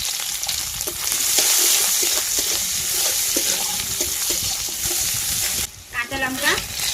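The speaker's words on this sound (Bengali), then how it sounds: "আমার কড়াই গরম হয়ে গেছে, পাঁচফোড়ন দিয়ে দিচ্ছি, একটু রসুন কুচি" Five-spice seeds, chopped garlic and onion frying in a hot wok, a loud steady close sizzle with stirring scrapes throughout, briefly dipping near the end as water runs nearby.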